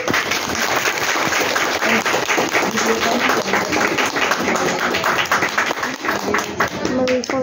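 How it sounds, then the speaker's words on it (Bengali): A group claps at a farewell gathering, the hand claps irregular and close, mixed with chatter and voices talking over the applause for the whole stretch. "তারপরে হাততালি হাততালি"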